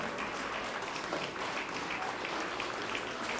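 Audience applause after a performance by the junior group of a children's choir at a concert: dense, steady clapping fills the whole stretch at an even, fairly strong level with no voices.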